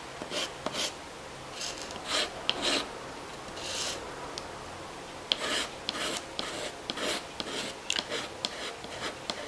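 A knife blade shaves and scrapes a Caran d'Ache pastel pencil, giving repeated short raspy strokes at an uneven rhythm, close and fairly quiet over a faint background hiss.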